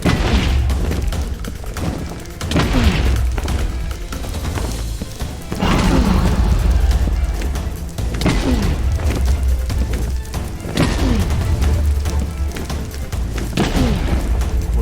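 Bed explosions in Minecraft, heavy booming blasts repeating every few seconds with low rumbling tails between them, loud and close, with no talk.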